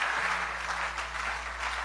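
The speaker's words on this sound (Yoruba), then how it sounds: "Clap for Jesus." A church congregation claps together in praise of Jesus, a dense, steady wash of many hands lasting under two seconds, loud and continuous.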